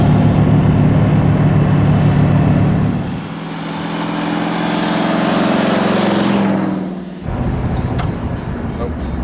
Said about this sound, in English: And that distinctive flathead sound.